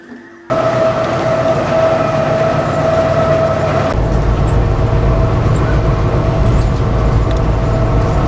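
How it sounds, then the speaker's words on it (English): Loud, continuous rumble and rattle of a freight train rolling along the rails between Missoula and Sheridan, with a steady droning tone and wagons clattering close by. "The train is coming into Laurel"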